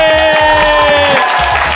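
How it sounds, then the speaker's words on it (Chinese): A gym crowd bursts into steady applause and cheering after a log press lift at a 2023 Taiwan Strongman trial. A sustained voiced shout rings over dense clapping that tapers slightly toward the end. "掌声鼓励"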